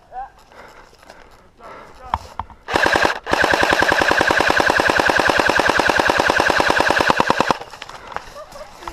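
Airsoft guns firing during a two-versus-two team deathmatch, a few scattered pops, then a loud, steady full-auto burst of rapid shots lasting several seconds, with voices before and after.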